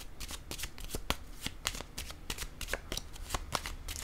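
Tarot cards are handled on a table, with rapid, soft papery flicks and taps repeating closely over a quiet background.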